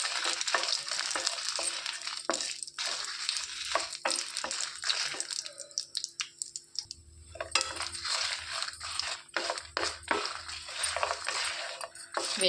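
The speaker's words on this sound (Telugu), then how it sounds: "ఇందులోనికి ఎండుమిర్చి వేసేసుకోవాలి. ఒక 10 దాకా మాడకుండా వేయించేసుకోవాలి." Dried red chillies fry in hot oil for onion chutney, with soft sizzling and frequent scraping and stirring clatter from a spoon against the pan, close and moderately quiet.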